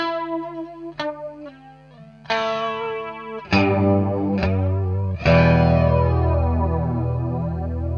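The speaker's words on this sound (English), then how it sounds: "we put the width a little bit higher, and then we get a very wonky sound" Electric guitar chords ring out through a Joyo Ironman JF-327 Raptor flanger pedal set to wide width, swirling and strongly sweeping, each strum wobbling in pitch with a wide, wonky modulation; no voices.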